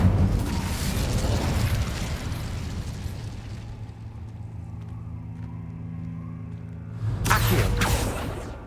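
A fiery Incendio spell bursts in Hogwarts Legacy as a loud, broad rumbling blast that fades into a low sustained roar, followed by a second sharp burst near the end.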